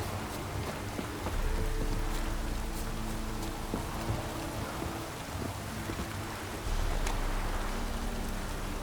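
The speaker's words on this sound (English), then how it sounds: "This downpour's a bastard, it is." Steady heavy downpour in The Witcher 3: Wild Hunt, a dense continuous hiss of rain on surfaces with a low rumble beneath, swelling slightly louder near the end, no voices.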